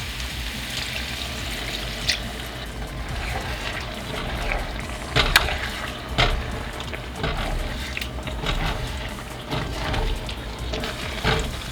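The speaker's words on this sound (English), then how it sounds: "And now we're going to flavor it up with some vegetable stock." Vegetable stock pours into a pot for a one-pot vegan garlic mushroom dish, a steady close liquid gush that runs almost the whole time with a few louder splashes.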